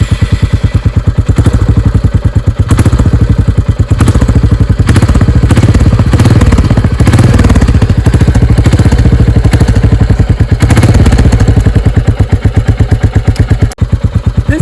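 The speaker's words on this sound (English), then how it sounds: "Let's hear out how the all-new Classic 350 sounds like." A Royal Enfield Classic 350 BS6 motorcycle from 2022 idles and revs up close, its single-cylinder engine producing a loud, rapid, even thumping beat with swells in throttle throughout.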